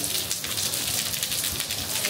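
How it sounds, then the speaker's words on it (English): Rain falling on a street in Valencia, a steady dense hiss of drops spattering on pavement, loud and continuous throughout with no voices. "It's starting to rain quite a bit. I don't have an umbrella, so I'm about to get soaked."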